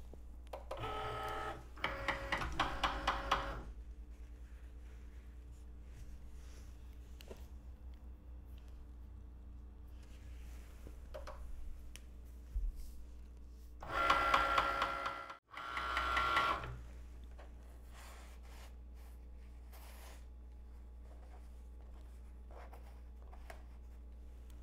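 A Cricut cutting machine works on fabric with whirring, clicking mechanical bursts near the start and again midway, separated by quiet stretches with a faint low hum, and no talk.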